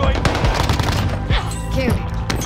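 Rapid gunfire bursts crackle loudly in a Call of Duty: Warzone match, with repeated shots and game voice announcements over the action.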